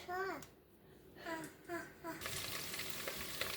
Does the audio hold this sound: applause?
no